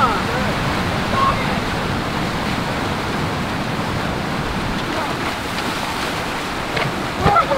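A California river surf wave rushes and churns steadily, a broad, loud roar of turbulent whitewater that stays close throughout, with occasional wind buffeting the microphone.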